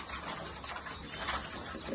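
Pigeons coo softly in a loft of highflyer breeder birds, with low, gentle, repeated cooing under a faint, steady background hum.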